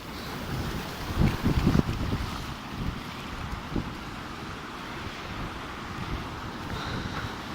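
Fast-flowing harbour water at a Sydney beach, with boats waiting to load and unload nearby, rushes and churns steadily under gusty wind buffeting the microphone, with brief louder surges early on.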